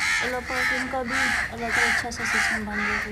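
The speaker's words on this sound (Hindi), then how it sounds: "हाँ जी, कौवे आ गए हैं सारे यहाँ पे।" A group of crows caws nearby at a new house, about five loud harsh calls in an uneven rhythm, each call standing alone.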